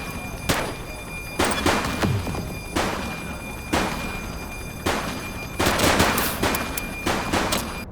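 Gunfire in the police game The Precinct: sharp, loud shots in irregular bursts, single cracks at first, then a rapid cluster of several shots near the end, over a steady background hum.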